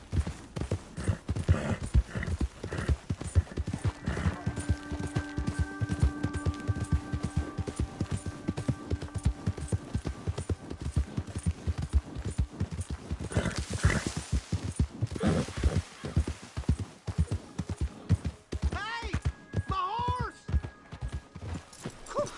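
Horse hooves clip-clop steadily in Red Dead Redemption 2, a continuous rhythmic trot that carries through the whole stretch, with voices and sustained tones layered over it.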